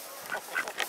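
A duck honking among a flock of chickens at a backyard coop, a few short nasal honks and squawks spread over a second, close and fairly clear over soft background noise.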